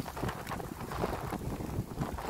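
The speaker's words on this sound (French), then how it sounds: "le vent. Ah. Il soulève toutes les feuilles mortes." Gusty outdoor wind buffets the microphone in a loud, rushing roar, with dead leaves being lifted and scattered, irregular rustling surges and no speech.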